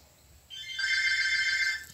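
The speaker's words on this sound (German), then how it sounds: "Oh, Telefon." A telephone rings once in a short electronic trill that swells in and lasts just over a second before cutting off, moderately loud over a quiet background with no talking.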